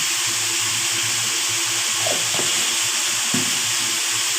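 Prawn and ash gourd ghonto sizzles loudly and steadily in a pan, with a few brief scraping strokes of a spoon stirring it partway through.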